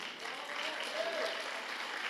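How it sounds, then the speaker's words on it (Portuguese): A church congregation gives a soft, diffuse round of applause, a steady low wash of clapping with faint voices mixed in. "dar uma salva de palmas para ele"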